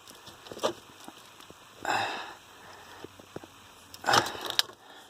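Electrical plugs being pulled off a car's steering wheel position sensor, with three short bursts of plastic rattling and clicking among small tapping sounds, near and moderately loud.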